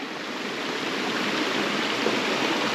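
River water spills steadily over a low, small waterfall with reduced flow, a continuous broadband rushing and splashing that holds an even level throughout, close by and with no voices.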